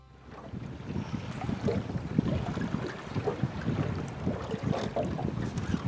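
Hard wind sweeps across Sardis Lake during crappie fishing from a boat, a constant buffeting rumble with gusts swelling and easing, and no talk.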